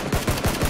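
A rapid burst of PUBG gunfire, four evenly spaced shots in quick succession, loud and sharp, with no voices over it.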